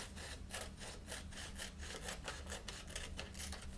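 Steady rhythmic scraping of a blade or scissors trimming excess paper to square a sheet, repeated strokes roughly every third of a second, close and fairly quiet with no talk.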